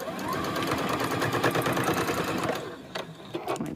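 A sewing machine stitches across a zipper pouch in a fast, steady mechanical rattle for about two and a half seconds, then stops, followed by a few brief clicks and a short restart.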